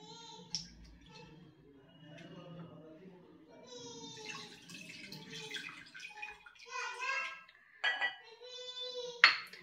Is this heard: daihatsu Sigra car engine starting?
no